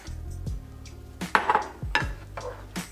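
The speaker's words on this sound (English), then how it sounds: "Now that the butter and the garlic are starting to get hot, nice and melted, I'm gonna dump the lobster in there" Lobster dumped into a pan of hot melted butter and garlic, giving a run of sharp clanks and knocks of metal and utensil against the pan, close and fairly loud, with quieter scraping between the hits.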